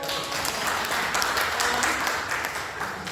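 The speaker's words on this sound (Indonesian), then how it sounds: "Tepuk tangan dong buat Bu Uli dong." An audience claps for Bu Uli in a dense, steady round of applause that runs throughout and tapers slightly at the end.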